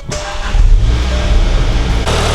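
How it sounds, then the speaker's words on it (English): Volkswagen GTI engine, suspected of burning oil, cranks and fires up, then settles into a steady, loud idle close by, with a brief shift in tone near the end. "Let's get it started, let it run for a few, and then we'll check the level."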